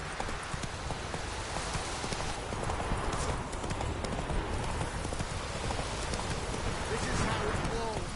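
Horse galloping in The Witcher 3, a steady rapid clip-clop of hooves on open ground with a faint game ambience, moderately quiet and continuous throughout.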